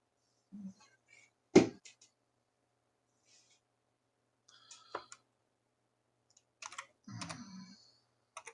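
Keys on a computer keyboard tapped while a password is entered, coming as sparse clusters of clicks separated by pauses, fairly close and quiet in an otherwise silent room.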